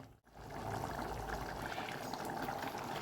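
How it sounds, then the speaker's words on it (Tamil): Okra tamarind curry (vendakkai puli kuzhambu) comes up to a gentle boil in a pot, making a steady, dense bubbling and hissing simmer close by after a brief dip at the start, with no talking. "இது லைட்டாக ஒரு கொதி வந்ததையும் அவ்வளோதான், குழம்பு ரெடி ஆகிடும்"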